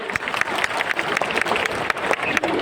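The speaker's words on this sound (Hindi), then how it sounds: "एक बार जोरदार तालियां संजय सर के लिए" A crowd at a public speech event applauds loudly, a dense, energetic roar of clapping with sharp individual hand strikes popping out of the steady wash.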